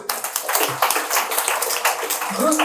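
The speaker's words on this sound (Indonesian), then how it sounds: "Tepuk tangan." Studio audience clapping at the close of a panel discussion, a quick run of sharp hand claps merging into applause, with voices talking over it.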